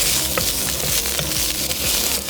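Cabana sausage frying with chopped tomatoes in a pan while cooking off-grid outdoors, a loud steady sizzle with small pops and crackles and light scraping from stirring.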